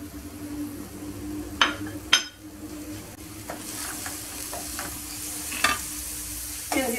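Chopped onion sizzling in about three large spoons of olive oil for a kefta and vegetable filling, a steady soft crackle and hiss with a few sharp clinks and scrapes of stirring against the pan.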